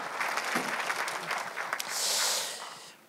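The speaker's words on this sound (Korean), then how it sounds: "박수를 치며 하나님께 영광을 내세요" A church congregation claps for a short stretch, fairly faint and scattered, before the clapping fades into a breathy hiss near the end.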